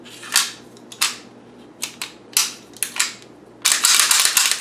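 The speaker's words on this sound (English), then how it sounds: "I go ahead and install my slide back onto the frame" A semi-automatic pistol slide being fitted onto the frame and cycled, a run of sharp metallic clicks and snaps spaced unevenly, close and crisp, ending in a longer scraping rattle.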